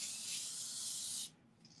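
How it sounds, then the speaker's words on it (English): A spray bottle sprayed around a house gives one long, close, continuous hiss that cuts off abruptly, followed by a brief softer puff in an otherwise quiet room. "I just walk around all day in my house spraying,"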